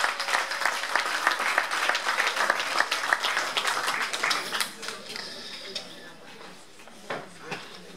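A church congregation at a pastor couple's 50th anniversary celebration claps and applauds loudly and densely for several seconds, then the clapping thins out into scattered claps, with voices mixed in.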